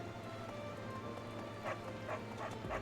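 Dog barking in the video game Fire Emblem Three Houses, a few short yaps rising from a steady bed of game music and ambience, moderately loud and close.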